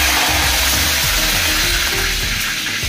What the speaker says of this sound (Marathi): सगळ्यात पहिले टाकला कढीपत्ता